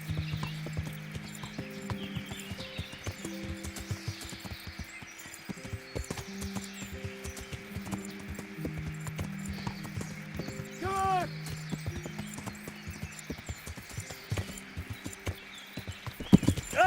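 Horse hooves clip-clop steadily at a brisk pace in the medieval game Kingdom Come: Deliverance, a continuous rhythmic patter over a low droning background, with a short neigh near the end.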